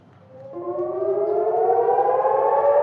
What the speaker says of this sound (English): When sirens warn of a rocket attack